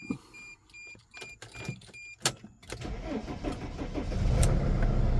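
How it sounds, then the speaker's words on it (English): A key turns in the ignition of a Sprinter van, bringing a few short warning beeps and clicks, then a cranking start as the engine catches and settles into a rising, steady idle rumble close by, with no speech. "now I got my key in my ignition. So let's start this thing up."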